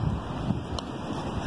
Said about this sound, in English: It's so windy outside and cold.